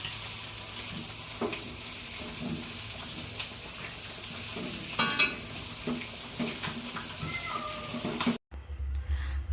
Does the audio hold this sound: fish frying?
yes